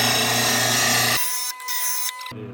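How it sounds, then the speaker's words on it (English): A loud RBG 712 mower blade sharpening machine whirs steadily, then drops into a thinner, scraping grind as the blade passes along the wheel, the full motor hum returning at the end. "turn the machine on, and I'm gonna sharpen a couple passes"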